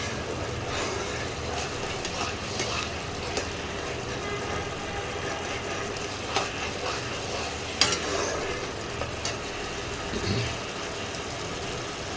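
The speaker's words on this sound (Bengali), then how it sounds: "মশলাটা কষাতে কষাতে দেখবে তেল বেরোচ্ছে" Spice masala with Kashmiri chilli powder frying in oil, a soft, steady sizzle with scraping stirs and a few sharper clinks, fairly quiet, with faint traffic rumble behind it.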